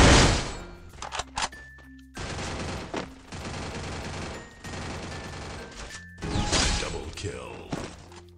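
Bursts of rapid gunfire in Free Fire, some short volleys and longer sustained automatic strings with brief gaps between them, loud and close, with a voice speaking at times.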